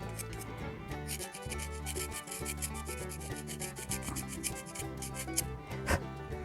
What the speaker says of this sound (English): I'm going to try to get some of this excess paint off of here